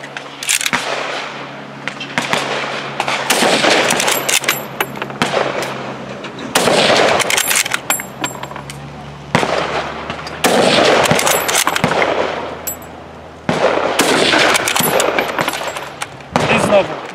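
An FN-49 semi-automatic rifle in 8mm Mauser fires repeated loud, sharp shots in irregular clusters, outdoors with echoes and some voices in between.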